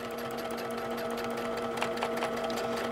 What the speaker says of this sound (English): notice how slowly, evenly Molly's stitching. This is not a race